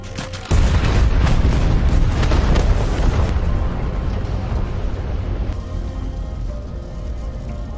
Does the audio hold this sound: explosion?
yes